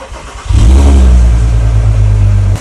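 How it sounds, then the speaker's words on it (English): A neglected Audi A3 3.2 V6 engine cranks and catches at about half a second, then settles into a loud, steady idle that cuts off near the end. "we're going to give the car a start"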